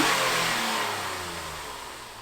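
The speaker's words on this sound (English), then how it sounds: "we're going to get Calvin to do a few revs." A Honda Accord V6 engine fitted with a long-tube J-pipe exhaust revs up loudly and then slowly winds down, the roar fading gradually as the revs drop, with no talking.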